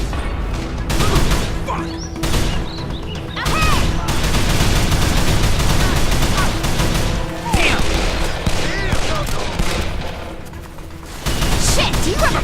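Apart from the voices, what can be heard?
gunfire in the video game Call of Juarez: The Cartel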